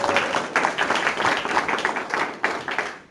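An audience applauds a young artist at a 50th anniversary celebration: dense, steady clapping from many hands fills the room, holding at a fairly even level and thinning slightly near the end.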